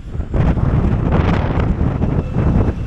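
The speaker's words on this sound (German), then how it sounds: "Und so sieht das aus und das ist total windig." Strong wind on a hilltop buffeting the microphone, a loud continuous roar with gusty swells, heard alone without talk.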